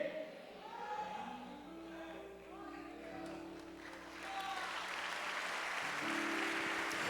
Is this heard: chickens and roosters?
no